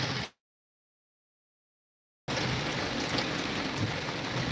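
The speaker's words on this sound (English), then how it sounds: "if you hear that pounding in the background, that's rain" Heavy rain pounding down during a thunderstorm, a dense constant roar that cuts out briefly to total silence, then resumes loud and steady, close by with no voices.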